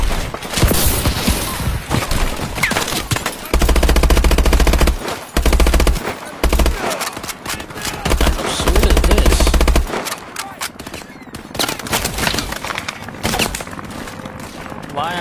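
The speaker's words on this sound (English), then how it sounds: "Why are they shooting?" Gunfire in the video game Brave Soldiers going for Glory: loud sustained automatic bursts and rapid shots, dense and continuous, then easing into scattered fire with faint voices underneath.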